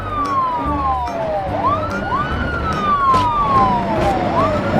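A toy fire rescue truck's electronic siren wails in repeated rising and falling sweeps, loud and close, over a low background hum.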